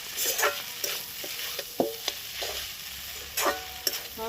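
Chow mein with egg being stirred and fried in a pan at home, with scraping stirs and soft sizzling in irregular bursts, fairly close and moderate in level, no voices.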